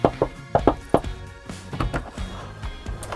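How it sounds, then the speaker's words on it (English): Knocking on the front door of a house, several sharp knuckle raps in two quick groups, close and fairly loud, followed by a few muffled thuds and faint background movement. "You give it a knock."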